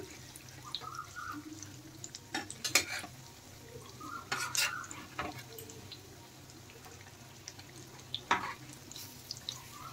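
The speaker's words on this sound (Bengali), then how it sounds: "এখন আমি ব্রেড পকোড়াগুলো একটু পাল্টে দেব এইভাবে।" Bread pakoras are turned over in hot frying oil with a utensil, giving a low steady sizzle. A few sharp scrapes and clinks of the spoon against the pan stand out, and nobody talks.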